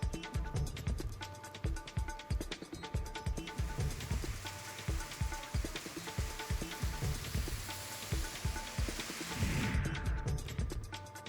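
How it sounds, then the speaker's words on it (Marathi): Heavy pre-monsoon rain pours down steadily, drumming loudly and continuously on surfaces close by, with no voices. "वळवाच्या पावसानं हजेरी लावली"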